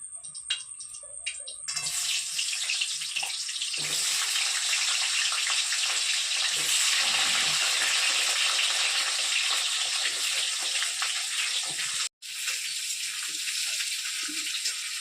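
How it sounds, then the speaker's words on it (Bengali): Potatoes sliced thin and long fry in hot oil in a pan, a steady broadband sizzle that swells after a short start and continues loudly throughout, with a brief dropout near the end. "তেল গরম হয়ে গেছে এবার আলুগুলো দিয়ে দিই"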